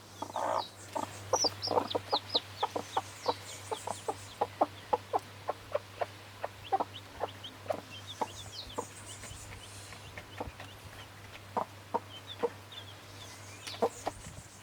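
Chickens cluck in a coop, a steady series of short, sharp clucks and calls scattered across the clip, fairly close, over a low constant hum with no talking.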